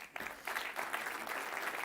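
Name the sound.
audience applause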